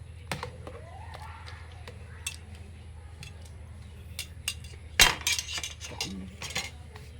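Thick ube halaya being stirred in a pan, with intermittent clinks and scrapes of a utensil against the pan, mostly soft with a louder cluster of taps and knocks partway through; people talk quietly underneath.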